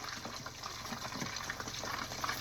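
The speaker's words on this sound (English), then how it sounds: "see if we can get these things going and frying here" Copycat McDonald's-style hash browns frying in a pan, a dense continuous sizzle and crackle with small popping bursts, close and steady.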